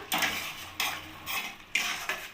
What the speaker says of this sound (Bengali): কড়াইশুঁটিটা দিয়ে আমি মশলার সাথে ভালোভাবে একদম কষিয়ে নেব।